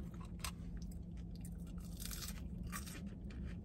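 Close, soft crunching and chewing of Wendy's seasoned potatoes with faint bites over a steady low background, no talk.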